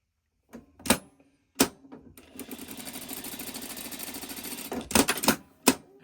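A sewing machine stitches across the corner of a Christmas Tree quilt block, with a few short rapid bursts of needle clatter, then a longer steady run of fast mechanical stitching and several brief stops and restarts, close and clear.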